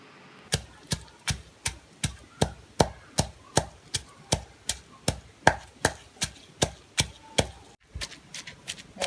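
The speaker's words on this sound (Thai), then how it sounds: "ก็เลยลองโขกแกง ก็เลยลองมาทำพริกแกงเองค่ะ" Southern Thai curry paste with pepper and turmeric pounded in a mortar: sharp, evenly spaced thuds, about two per second, close and clear, with a brief pause near the end before the pounding resumes.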